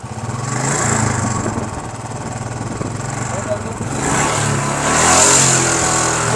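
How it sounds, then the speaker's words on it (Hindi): A Royal Enfield Bullet motorcycle engine runs close by, a loud continuous rumble that rises as the throttle is opened, with a voice talking over it. "बाइक का जैसे थ्रोटल देते हैं डिस्प्ले से लाइट ही गुम हो रहा है"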